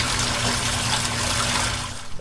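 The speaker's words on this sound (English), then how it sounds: "look at how much more water's coming out now" Water gushes steadily from the drain of a front-load washing machine that would not drain, a loud, continuous broadband rush close by that tapers slightly at the end.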